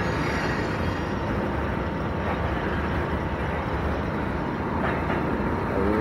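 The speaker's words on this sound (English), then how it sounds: "And now the train finally ends and we can go." A very long freight train rolls steadily past a railroad crossing, heard from a stopped 50cc scooter: a continuous, loud, dense rumble and clatter that holds even throughout, with no voices.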